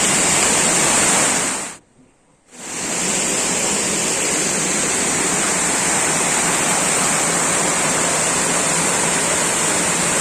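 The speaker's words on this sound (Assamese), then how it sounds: "এই জলপ্ৰপাতটো এটা বিশেষ জলপ্ৰপাত, কাৰণ নৈ নদীৰ উৎপত্তি প্ৰথম উৎস" Dikoy waterfall, the source of the Nonoi river in Nagaon, Assam, roars as a loud, continuous broadband rush close to the falls, cut by one brief dropout.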